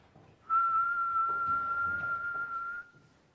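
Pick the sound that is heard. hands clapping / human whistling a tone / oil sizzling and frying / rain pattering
human whistling a tone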